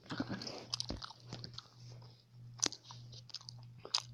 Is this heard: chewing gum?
yes